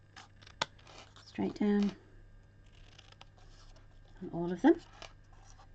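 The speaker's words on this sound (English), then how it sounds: "you can cut them out with a pair of scissors, because there's just straight lines" Scissors snip through paper to cut out stamped presents, with short crisp cuts and papery rustles in two clusters, and a person speaks briefly between them.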